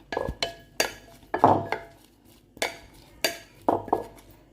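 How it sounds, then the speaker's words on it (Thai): Boiled egg salad being tossed with celery in a bowl, eight or nine distinct clinks and scrapes of a utensil against the dish in an uneven rhythm, close and clear with quiet gaps between. "คลุกเคล้าผสมให้เข้ากันเลยค่ะ"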